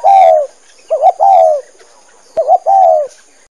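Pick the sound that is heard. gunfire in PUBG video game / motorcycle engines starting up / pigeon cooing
pigeon cooing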